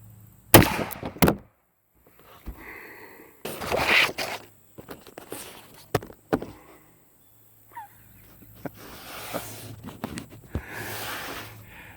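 An old used Dan Wesson .44 Magnum revolver with an 8-inch barrel fires outdoors, giving a few sharp, widely spaced loud cracks. Scraping and handling noises and brief talk come between the shots.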